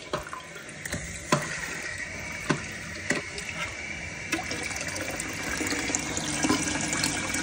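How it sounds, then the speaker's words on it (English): Toilet flushing with a bucket-filled tank of about 1.1 gallons, a rushing water swirl that builds and continues steadily, with a few clunks and drips near the start. "Just waiting for one last flush."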